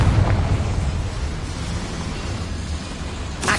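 A Confringo blasting spell in Hogwarts Legacy sets off a broad, sustained roar of explosion inside a small mine, loud at first and then rumbling steadily throughout.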